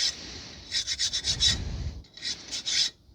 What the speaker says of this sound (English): you can use a saw blade or something to get any brake dust out of here